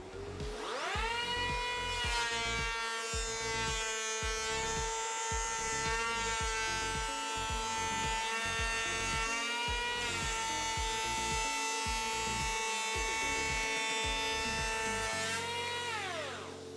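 A Makita 40V XGT electric planer cutting plywood 2mm deep whines steadily with a high buzzing tone, spinning up at the start and winding down at the end, with rhythmic rougher pulses underneath.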